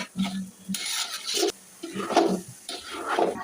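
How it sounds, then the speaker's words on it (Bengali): Rice for beef tehari is toasted with spices in a large pot, giving intermittent scraping stirs and clinks with light crackle between quieter gaps, close by and with no talking. "চাউল ভাজা হয়ে গেছে দেখেন কটকট শব্দ হচ্ছে"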